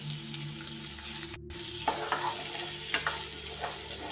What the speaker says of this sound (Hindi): अभी हम यहाँ पर डालेंगे 1 कटा हुआ प्याज। ये इसके अंदर कटा हुआ प्याज, इसका भी हम अच्छे से लाइट ब्राउन भूनेंगे